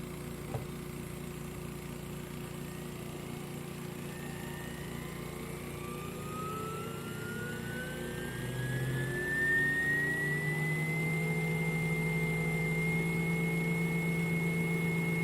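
Laurell WS-400 spin coater ramping up to 10,000 RPM, a steady motor whine that rises in pitch and then holds a high, even tone over a constant background hum.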